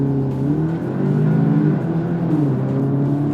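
An Audi S3 engine pulls hard on the road, a loud, steady rising drone with strong low harmonics climbing in pitch as the car accelerates, close and continuous with no talking.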